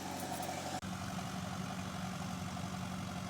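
An Allis-Chalmers tractor engine idles steadily on a farm, a continuous mid-to-low rumble with a brief dropout near the start, then even running, no voices.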